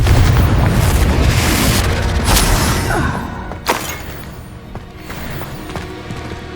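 A Confringo spell detonates in Hogwarts Legacy combat: a loud booming explosion with a sharp burst, fading into rumble and scattered debris-like crackles.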